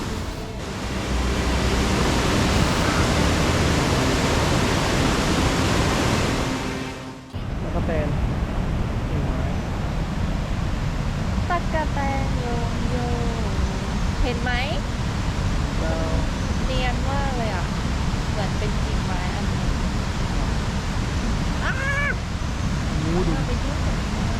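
A large jungle waterfall in Laos roars with a dense, constant rushing hiss, very loud at first and then continuing slightly softer as someone talks over it.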